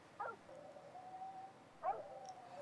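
Dogs howling in a quiet indoor setting, two rising wails with long sustained tones that trail off, moderately near, with no talking over them.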